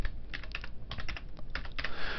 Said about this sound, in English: The first is to simply start typing.